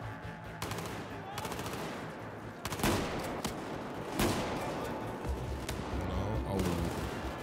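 Dense gunfire in the shooter game Battlefield 4, with rapid machine-gun bursts and overlapping shots forming a loud, continuous barrage and a few heavier blasts, while someone briefly speaks over it.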